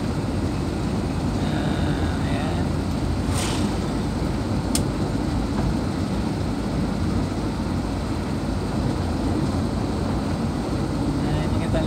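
A motorcycle rides a bumpy, wavy road at night in Dadahup, giving a steady, loud engine and road rumble that holds unbroken throughout.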